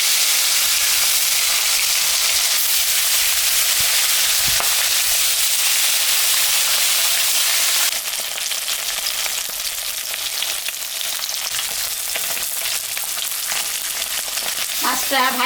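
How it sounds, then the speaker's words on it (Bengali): Catla fish pieces rubbed with salt and turmeric frying in hot mustard oil, a steady loud close sizzle with crackling spatter that eases slightly halfway through, with no talking. "এখন আমি মাছটা ভাজবো। সর্ষের তেল দিলাম, মাছে লবণ দিয়ে দিলাম, হলুদও দিয়ে দিলাম।"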